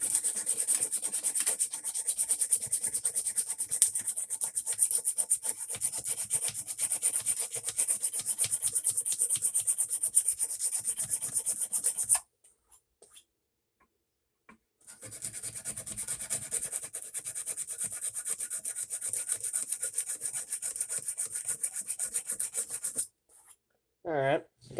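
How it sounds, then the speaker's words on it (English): Wood is sanded by hand to remove a stain, giving a steady, close scratchy rubbing in rapid back-and-forth strokes. The rubbing runs in two long stretches separated by a brief pause. "I'll try to see if I can hand sand it out just a little bit more"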